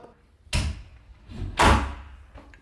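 A repaired door, once sagging and rubbing, swung open and shut to test it: two main thuds with lighter knocks and a faint tap after, near and alone.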